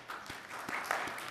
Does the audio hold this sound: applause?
yes